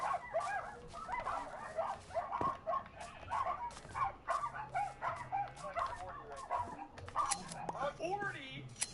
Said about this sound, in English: They crack the door open, there's already 8 dogs at the door.